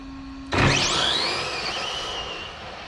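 A Losi 22S RC drag car makes a quick test pass: a sudden sharp burst of high-pitched electric motor whine that sweeps upward, then trails off steadily over a couple of seconds, fairly loud and alone.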